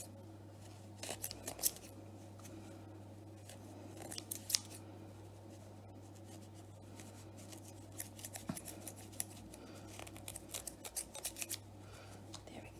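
Scissors snip repeatedly at close range, cutting yarn loops to make pom-poms, quick irregular cuts scattered over a quiet background with a low hum.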